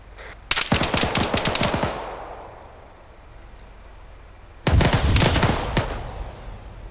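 Two loud bursts of automatic gunfire in ArmA 3 combat, a rapid volley up front and another near the end, separated by a lull of ringing echo and low rumble.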